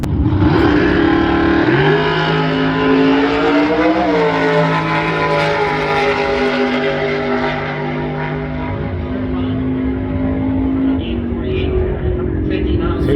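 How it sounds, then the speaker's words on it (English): A naturally aspirated small block Ford drag car engine idles and revs loudly at a bracket racing track, its pitch rising and falling, while an announcer's voice carries over it. "this is a small block Ford, naturally aspirated"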